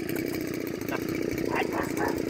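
Mowing machine engine running steadily up close, a constant buzzing drone that carries on under occasional background sounds while someone is mowing.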